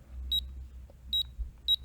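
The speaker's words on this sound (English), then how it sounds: "this is the beep" A tiny vintage 1970s Sharp calculator gives three short, high electronic beeps, each a quick doubled pip, spaced evenly and heard clearly against a quiet, low hum.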